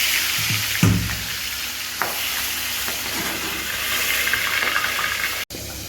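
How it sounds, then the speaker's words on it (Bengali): Pabda and chapila fish frying in hot oil, a steady broadband sizzle with an initial burst as the fish goes in and a few faint clinks over the continuous hiss; no talking. "মাছ তেল গরম হয়েছে, এখন মাছ করে দিই"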